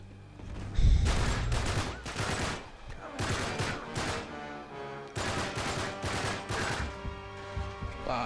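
Bursts of gunfire from the Uncharted 3 video game, several loud volleys of shots in quick succession with short gaps between them and no talking.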